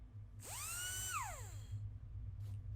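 A whining mechanical drill from a Five Nights at Freddy's 'Trip to the Moon' animation spins up, holds a high sustained tone, then winds down in pitch, heard alone and fairly clear over a low hum.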